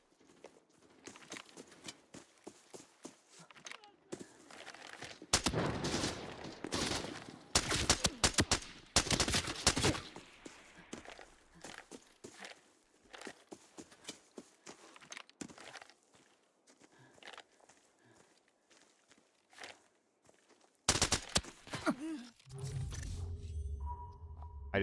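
Gunshots from an Arena Breakout: Infinite–style shooter crack in close, loud bursts and scattered single reports against quiet movement sounds, with clusters of heavy impacts near the middle and end.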